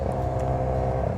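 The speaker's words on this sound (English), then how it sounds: "Oh no, the loud cars are back." Formula 1 race cars at the Monaco Grand Prix roar in a brief, loud, steady engine drone with a dense buzzing tone and no talking.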